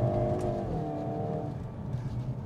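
A 2022 Hyundai Kona N, a front-wheel-drive hot hatch, is driven hard round a corner: a steady engine drone heard from inside the cabin, its pitch holding and then easing slightly, with no talk.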